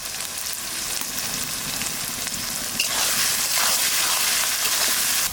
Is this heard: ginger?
yes